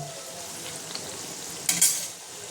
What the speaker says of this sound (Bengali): এটা আমি হালকা লাল লাল করে ভেজে নেব